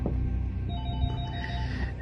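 A telephone rings with a thin, bell-like electronic tone over a heavy low rumble of background noise, heard close and alone with no speech.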